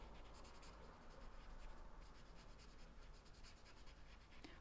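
Pen or marker scratching steadily on paper while coloring in boxes on a budgeting sheet, a close, continuous rubbing scratch with faint background noise from an open window.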